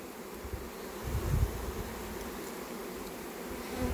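Big swarm of bees caught on a fir tree, humming in a low steady drone as they are shaken into two hive boxes, fairly faint with soft handling bumps.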